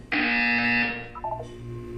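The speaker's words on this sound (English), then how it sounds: "When you hear the buzzer, look up at the ceiling." Test chamber buzzer in the Portal 2 video game, a single loud, harsh electronic tone that sounds for about a second, then drops to a softer fading tail.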